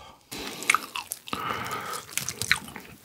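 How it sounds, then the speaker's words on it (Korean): Soy-sauce-marinated king tiger shrimp being chewed up close, with wet, sticky bites and soft squelching crunches that come in irregular bursts across a few seconds, loud and near with no talking. "이렇게 막 오다다다닥 하는 이 새우살이 입안 가득 막 씹는 간장 새우 초밥 맛이거든요"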